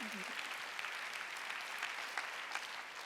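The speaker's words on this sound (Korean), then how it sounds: "박수." Steady applause from a church congregation at a Sunday worship service, dense clapping filling the room at moderate level with a brief voice at the very start.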